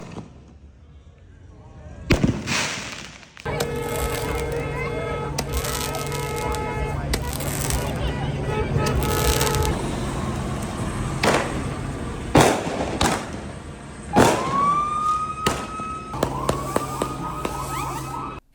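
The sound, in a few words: fireworks being shot during riot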